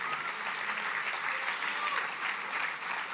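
Guests at a foundation fundraising gala give a big round of applause, a dense, even burst of clapping across a large room with no pause.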